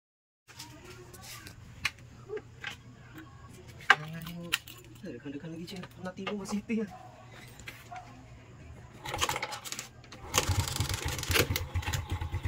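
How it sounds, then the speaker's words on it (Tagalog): A Suzuki Smash 115 motorcycle that would not start sputters and catches, then runs with a low idle hum, amid clatter and a few quiet voices nearby. "Tapos paandarin natin yung motor."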